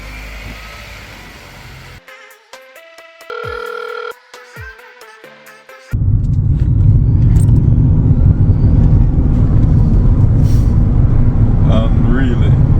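An electric Mini car drives on the road after a short ringing tone, its motor and road noise becoming a loud, steady rumble with a faint rising whine as people talk over it.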